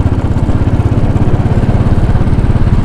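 Loud, steady engine drone of a Royal Enfield Bullet 500 motorcycle riding through downtown New York City, with rumbling wind buffeting mixed into the close, pulsing exhaust note.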